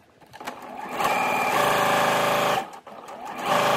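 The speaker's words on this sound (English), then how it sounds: "I'm just gonna sew them all together and then even them out slightly" A sewing machine stitches quilt pieces together in long, steady runs of rapid needle whirring, with short pauses between seams, loud and close.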